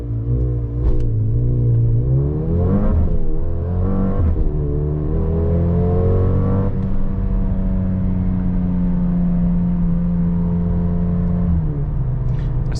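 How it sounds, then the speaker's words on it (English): 2023 Mercedes GLB 35 AMG launching from standstill under launch control: the engine revs, surges hard, then climbs steadily through rising gears, loud and close from inside the cabin, with no talk. "so now launch control, let's do that"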